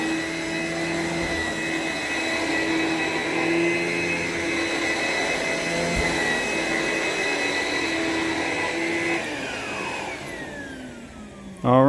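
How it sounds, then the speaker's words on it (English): A vacuum cleaner runs over carpet with a steady, loud motor whine and airflow hiss, its pitch shifting slightly as it moves, then winding down near the end followed by a brief bump. "you can tell where we went through there with the vacuum and over here where we haven't"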